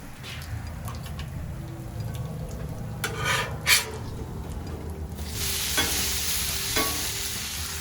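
Hash browns fry in butter on a Blackstone griddle with a steady soft sizzle and scraping spatula strokes; the hiss swells louder partway through.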